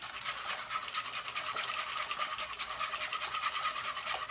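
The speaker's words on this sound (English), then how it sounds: "whisk the hell out of that" Flour being whisked hard into a chicken and vegetable mixture, a quick continuous scratchy rubbing rhythm of the whisk in the pot, close and soft, with no talk.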